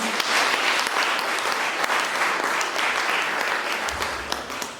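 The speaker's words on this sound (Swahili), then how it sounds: "Kama umebarikiwa, pigia Bwana makofi" Congregation clapping in church after a sermon, sustained dense applause filling the room, tapering slightly at the end.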